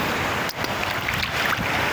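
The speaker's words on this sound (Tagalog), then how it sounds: "Ang lakas ng alon." Broad, steady roar of ocean surf on the beach at Bolasi, San Fabian, Pangasinan, with rushing water and some wind buffeting the microphone, continuous and fairly loud throughout.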